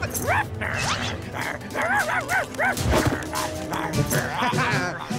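A cartoon dog yips and barks repeatedly up close, with whiny, rising yelps and some mechanical clatter in between.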